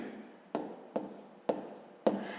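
A pen or marker writing out a multiplication on paper or a board, giving four short scratchy strokes, each starting with a sharp tap and fading, soft and close.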